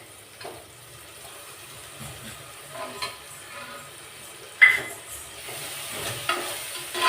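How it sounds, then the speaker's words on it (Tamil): Ginger garlic paste sizzling and being stirred in a pan while frying for prawn biryani, a soft steady hiss with scattered scraping and clinks, one sharper clatter midway. "இப்போ அடுத்தது என்ன, இஞ்சி பூண்டு பேஸ்ட்டு போட்டுக்கலாம்"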